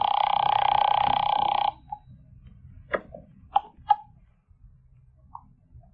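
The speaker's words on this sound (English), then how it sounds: "It's ringing. I can hear it upstairs." A telephone bell rings in one loud, continuous burst, then cuts off, leaving near silence broken by a few soft clicks and knocks.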